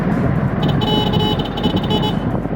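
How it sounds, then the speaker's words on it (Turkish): A car horn honks in a few short rhythmic toots over steady traffic rumble on a street, with the engine noise of the car carrying the horn running throughout. "Arkadaşlar böyle korna istiyorsunuz."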